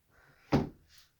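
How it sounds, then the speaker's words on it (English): A double drawer in a converted bus cabinet slides out with a single soft thump near the middle, framed by faint rolling friction before and after, close and fairly quiet. "This one's a double drawer, slides out."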